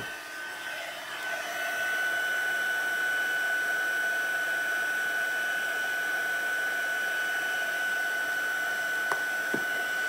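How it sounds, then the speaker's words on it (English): A heat gun blows steadily while drying a watercoloured card, a constant whooshing hum with a high whine that starts up and holds for several seconds, close and alone. "I'm just going to heat that with the heat gun again"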